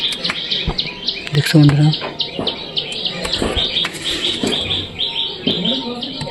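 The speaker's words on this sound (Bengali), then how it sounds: "এই দেখো, সব কবুতরগুলো বসে আছে ডিমে," Pigeons in a loft where the birds sit on their eggs give soft calls, with a brief low coo among steady high chirping and rustling nearby. Someone speaks briefly.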